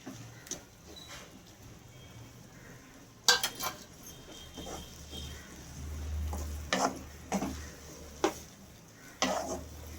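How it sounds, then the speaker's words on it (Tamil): Onions sautéing in hot oil for a chicken gravy, a faint low sizzle under occasional sharp clinks and scrapes of a spoon stirring the pan. "வெங்காயம் நல்லா வதங்கணும்"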